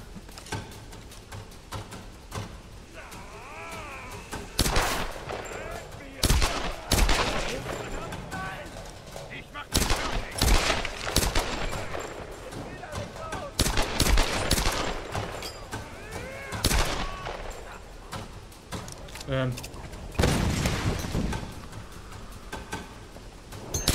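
Gunfire in Tomb Raider, with repeated loud shots and bursts scattered across a tense game soundscape, some close and sharp, with a voice talking between the volleys.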